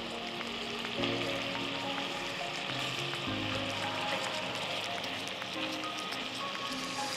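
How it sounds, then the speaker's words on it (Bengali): Marinated chicken fries in hot oil until golden for Bengali murgir pulao, a steady soft sizzle with faint crackles and occasional utensil taps under a low background hum. "চিকেনটা বেশ সোনালি না হওয়া পর্যন্ত ঘুরিয়ে ফিরিয়ে ভাজো।"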